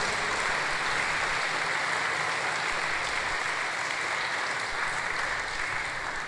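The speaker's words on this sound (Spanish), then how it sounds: "Quiero que se den un fuerte aplauso a la comunidad parroquial de Jesús de Nazaret." Continuous crowd applause from a parish congregation at a Sunday Mass, a dense hiss-like wash of many hands at moderate level, steady and unbroken for several seconds.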